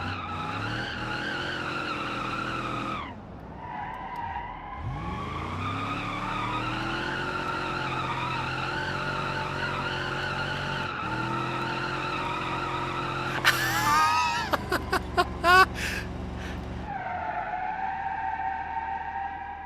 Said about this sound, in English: It drifts pretty good.